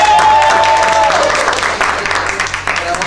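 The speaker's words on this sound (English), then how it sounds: "If you guys would give a round of applause" Audience applause at a school talent show held at a middle school, a steady wash of clapping throughout, with a brief tone early on.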